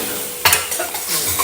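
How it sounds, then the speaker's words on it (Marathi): Soaked rice and dal are stirred together in a pot, a close, brief scraping swirl with a couple of sharper knocks of the spoon against the metal. "आता हे मी चांगलं व्यवस्थित हलवून घेते."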